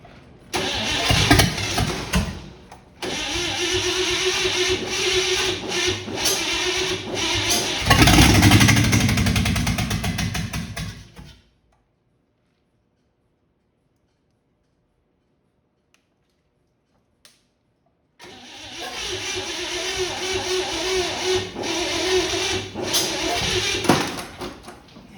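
A 1955 Chevy Bel Air engine cranks and fires, running loud and rough for about eleven seconds before shutting off, then after a long silence it starts again and keeps running.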